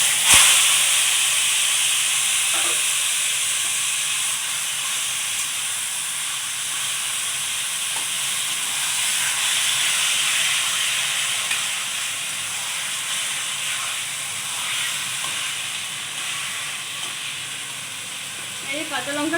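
Taro pieces sizzle and hiss steadily in a hot pan for a Bengali kochu shaak dish with hilsa head, a continuous broadband frying hiss with faint clinks, no talk.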